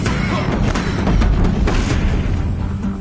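Deathbringer war machines in the video game Horizon Zero Dawn fire in a dense, continuous barrage of booming blasts and rumbling thuds, loud and unbroken throughout.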